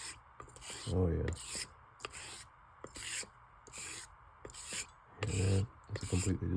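Repeated rasping strokes of a straight razor gliding across a honing stone, in a steady back-and-forth rhythm, close and fairly clear.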